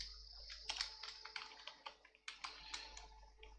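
Fingers type on a computer keyboard up close and quietly, the keystrokes coming in irregular bursts of crisp clicks with short pauses between them.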